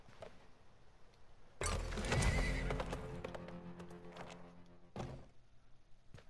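A horse in the video game Weird West gives a loud whinny amid hollow clip-clop hoofbeats, with further muffled thuds of movement around it.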